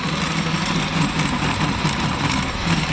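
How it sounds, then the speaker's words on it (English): Loud, steady drone of a small cultivator engine working the ground at close range, a rough continuous rumble with a slight rattling texture. "you will hear the engine and you can hear it as it works harder"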